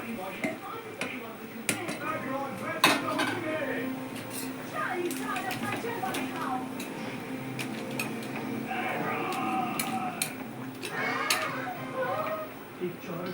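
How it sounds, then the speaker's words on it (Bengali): Crabs going into a hot cooking pan for a spicy crab curry, with sizzling, clattering and stirring close by under continuous talk from a woman. "এই কাঁকড়াগুলো ঢেলে দিচ্ছি।"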